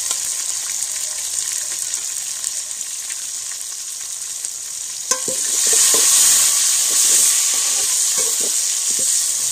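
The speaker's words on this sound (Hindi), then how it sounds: "इसको भी अच्छी तरह भून लेंगे" Chopped tomatoes go into golden fried onions in a pot for a village-style kabuli pulao, and the quiet sizzle surges into a louder, fuller crackle halfway through, with stirring clatter near and no talk.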